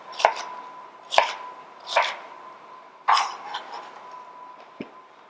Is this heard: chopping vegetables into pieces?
yes